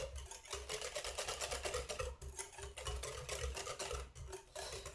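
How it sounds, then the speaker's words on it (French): Lemon cake batter is stirred by hand in a bowl, a rapid, steady scraping and whisking rustle with a short pause partway through, close and faint, with no talk. "bien mélanger"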